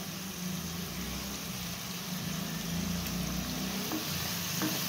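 A filling for Khandeshi dal batti sautés in a pan with a continuous low sizzle and occasional soft stirring scrapes, steady and fairly quiet throughout, with no voices.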